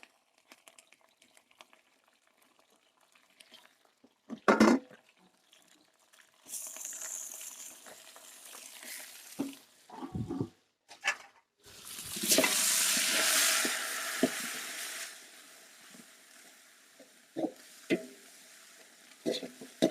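Mint and coriander fry in oil in a large pot for Salem-style beef biryani, with bursts of sizzling and the scrape of stirring that swell and fade over and over.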